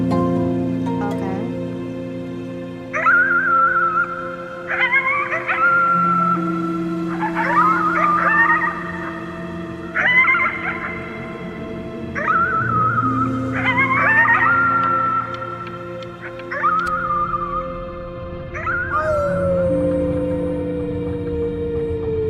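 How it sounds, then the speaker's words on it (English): A sick child howling at the moon at the top of its lungs in the video game Before Your Eyes, a series of long wavering wails rising and falling over a sustained musical background. "You howled at the moon at the top of your lungs."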